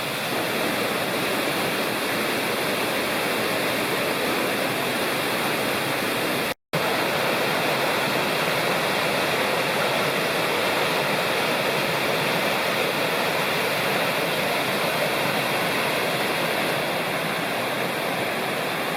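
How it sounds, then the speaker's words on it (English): Rocky Fork Creek in the mountain woods of Rocky Fork State Park runs in a steady, close, full rush of water. The flow holds constant and loud throughout, broken only by a brief dropout near the middle, with no voices. "Back down on the Rocky Fork Creek."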